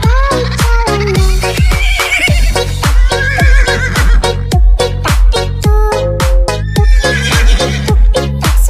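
Steady clip-clop hoofbeats of a horse pulling a delman cart sound in a cheerful children's song, punctuated by a whinny, with bright, loud, rhythmic backing music.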